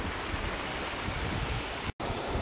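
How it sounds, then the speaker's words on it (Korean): Eumpokpo waterfall in the Seoraksan valley, Korea, pours into a jade-green mountain stream, giving a steady, close, unbroken roar of falling water that continues alone, with one brief dropout near the end. "얘가 음폭포예요."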